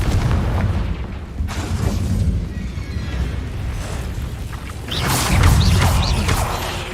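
A Confringo fire spell goes off in Hogwarts Legacy, a dull boom with a crackling magical burst that swells louder near the end over a constant rumbling game soundscape.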